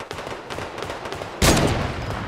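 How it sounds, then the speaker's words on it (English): Gunfire in the video game Fortnite, with a fast rattle of shots under game noise, then a loud, dense burst of firing close up that carries on to the end. "Why do I keep on shooting people that are already gonna die?"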